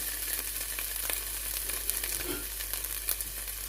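Okra and onions crackle and sizzle in olive oil in a pan, a close, steady frying hiss with small pops throughout.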